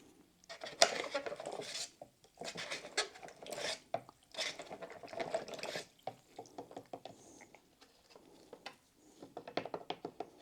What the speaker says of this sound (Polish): I teraz muszę przepłukać tą skórę, którą barwiłem.